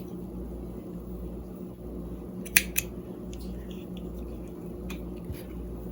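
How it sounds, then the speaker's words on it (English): Scissors snip embroidery thread to length, two quick crisp cuts close by over a steady low room hum, with no talking. "You cut the thread out to 24 inches long."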